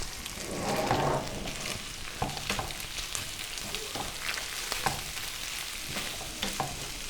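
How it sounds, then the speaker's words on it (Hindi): Shredded boiled chicken sizzles in a pan with onions and ginger, garlic and green chili paste as it is stirred, a steady crackling fry with scraping spoon strokes, close and moderately loud, with no talking. "प्याज में हमने इसको शामिल करके भून लेना है।"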